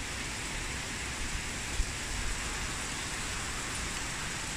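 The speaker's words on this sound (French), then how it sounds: "Il pleut à fond là depuis tout à l'heure." Steady, dense rain hiss fills the clip evenly from start to finish, a broad wash of heavy falling water during a thunderstorm with no voices.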